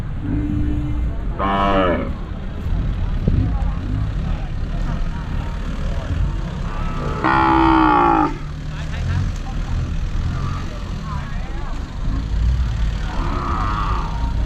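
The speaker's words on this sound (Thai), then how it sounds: "วัวเยอะมากเลยครับผม" Cattle low loudly at an open-air cattle and buffalo market in Phaniat, Lopburi, Thailand, with a couple of clear moos rising over a noisy crowd background and people talking.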